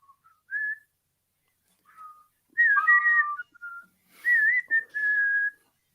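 A person whistles a few short, bright phrases of rising and gliding notes, separated by pauses, close and clear against silence.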